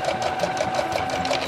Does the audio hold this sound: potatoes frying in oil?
no